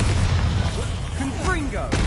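Spell explosions in the video game Hogwarts Legacy, a loud, dense barrage of booming blasts with whooshing magical effects and rising tones, close and continuous over a short span.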